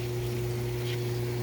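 A hot tub pump runs on low speed, making a steady, even electrical hum that stays close and constant with no other sounds over it.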